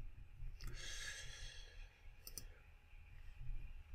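Mouse clicks on a software button in a business accounting app, a couple of short, sharp clicks standing out over steady low room hum, fairly close and quiet.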